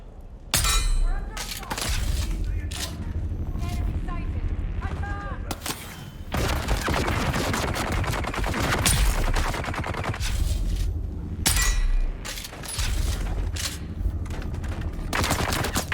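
Enemy SMG gunfire in Dune: Awakening, rapid bursts crackling in repeated volleys close by, with brief lulls between the loud automatic fire and impact clatter.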